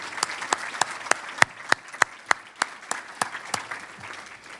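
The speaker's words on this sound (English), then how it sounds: "How about a round of applause for our special guests?" Applause for special guests at a school district Educator of the Year event, a sparse group clapping with distinct, sharp individual claps in an uneven rhythm, moderately close.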